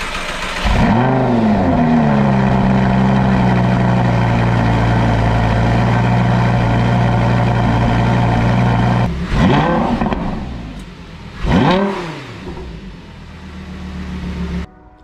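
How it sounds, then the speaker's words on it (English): A 2014 Lamborghini Gallardo cold-starts loudly up close: a sharp bark of revs, then a high, steady fast idle held for several seconds, followed by two more quick throttle blips that rise and fall before settling. "There's a cold start on a 2014 Lamborghini Gallardo."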